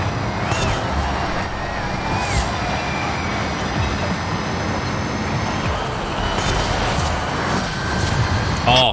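Ford Mustang engine in Forza Horizon 5 rumbles loudly and continuously, a low heavy drone with a few brief higher whines and a swell near the end.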